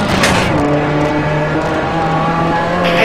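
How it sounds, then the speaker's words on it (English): A rally car driven hard on a stage with a broken gearbox, its engine droning loud and close at steady high revs, with a strained whine throughout. "Sounds like the gearbox is broken."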